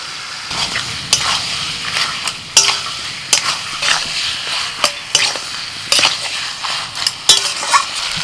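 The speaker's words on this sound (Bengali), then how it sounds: "এবার ভাজা সবজিগুলো দিয়ে দিচ্ছি।" Fried vegetables are stirred into rohu fish head in a pan, with a spatula scraping and clinking against the metal in an uneven rhythm over a light, steady sizzle.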